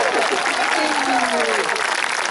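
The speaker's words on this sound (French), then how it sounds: "Et vous pouvez l'acclamer, applaudissez-le, quel courage, quel bravoure." Audience applause at a comic medieval street show, a steady dense wash of clapping that fills the whole moment, with a performer's voice carrying over it.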